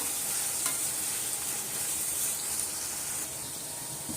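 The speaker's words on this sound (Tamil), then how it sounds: "தக்காளியை நல்லா வதக்கி விட்டுக்கலாம்" Tomatoes sauté in a pan for country chicken biryani, a steady, close, loud sizzle and hiss that runs throughout with only slight shifts in level.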